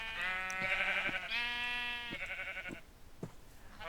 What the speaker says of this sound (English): I got all these sheep coming after me.